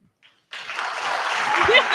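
Debate-hall audience applause bursts in after a short silence at a 2016 presidential debate, swelling into a dense, steady wash of clapping from a large crowd.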